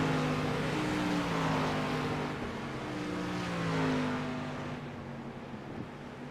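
Street stock race cars at Lakeland in the iRacing game roar together in a steady engine drone. Pitches slide and waver as the pack runs single file, moderately loud with no talk.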